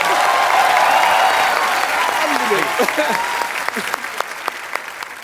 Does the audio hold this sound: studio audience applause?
yes